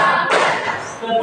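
A class of students claps together in one sharp, close burst, followed by a little room noise and a faint voice.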